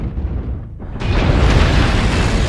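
A heavy PPC energy weapon fires in MechWarrior Online. A low rumble suddenly gives way to a loud, broad crackling blast that sustains as a dense roar afterward.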